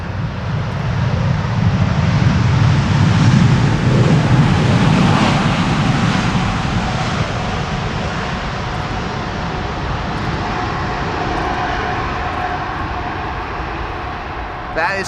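An airliner lands on Amsterdam Schiphol's Polderbaan runway 18R in a crosswind, its thrust reversers spooling up into a loud, broad roar that swells over the first seconds and then slowly fades away.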